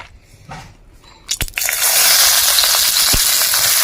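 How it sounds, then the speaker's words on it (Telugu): Chopped onions drop into hot oil in a kadai for a ridge gourd and chana dal curry. A short clatter is followed by a loud, steady, close sizzle that lasts to the end. "కొన్ని ఉల్లిగడ్డనైతే ఇప్పుడు నూనె కాగింది, నూనెలు వేసుకోవాలి."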